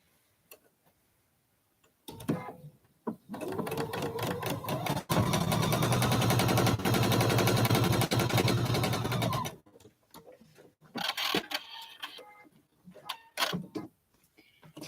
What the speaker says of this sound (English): I just slow down and let my machine work its way through